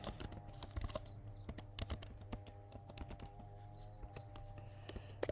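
Rapid, irregular keystrokes on a computer keyboard clatter close by while an email address is entered during a server software setup, with brief pauses between bursts.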